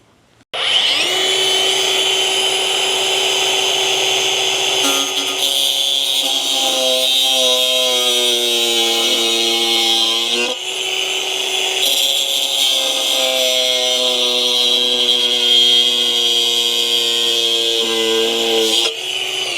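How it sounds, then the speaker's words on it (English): An angle grinder cuts into metal while fitting a Blue Ox tow bar on a Jeep, a loud steady high whine that starts abruptly and holds for the whole stretch, dipping briefly as the cut shifts. "I got my angle grinder that I'm going to try to cut this with"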